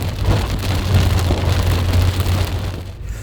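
Steady rain pours down at night amid a thunderstorm with tornado warnings, a dense hiss over a low rumbling hum, loud and close, fading slightly at the end.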